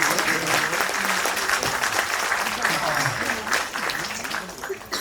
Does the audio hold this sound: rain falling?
no